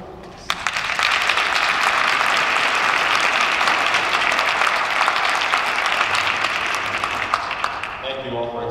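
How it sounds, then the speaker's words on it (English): An audience at a high school National Honor Society induction ceremony breaks into a full, sustained round of applause. It starts abruptly, holds loud and dense for several seconds, then thins slightly toward the end. "Please join me in thanking them all with a round of applause."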